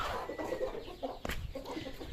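Chickens and young chicks cluck softly in a coop while being fed. The calls are quiet, come in short scattered bursts, and stand over low background noise.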